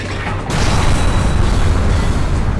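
A robot's rocket punch lands in the video game Robot Alchemic Drive, a loud, dense booming crash that swells after a brief lead-in and rumbles on without fading.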